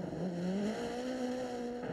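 Citroën rally car engine at the 1986 Swedish Rally, a steady rising drone with a clear harmonic tone climbing in pitch as it accelerates, close and loud throughout.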